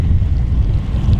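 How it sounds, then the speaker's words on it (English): Steady gusting wind buffets the microphone, a loud low roar with no other sounds. "Wind picked up quite a bit."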